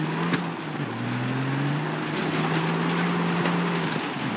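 A vehicle engine drones steadily in Far Cry 3, its pitch shifting as the driver heads toward the oil reservoirs, loud and continuous with no talk.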